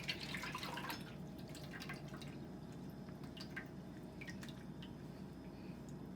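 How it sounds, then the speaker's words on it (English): Heavy syrup draining from canned peaches, a soft steady trickle with faint scattered drips, quiet and close with no voices. "I want to separate the peaches from the juice. So what I'm going to do is kind of drain it."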